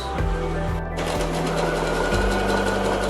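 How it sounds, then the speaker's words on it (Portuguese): Sewing machine running a zigzag stitch on fabric for a bowl holder, a steady close mechanical whirr with a couple of brief pauses in the motor drone. "Vamos lá passar o zigue-zague e já voltamos."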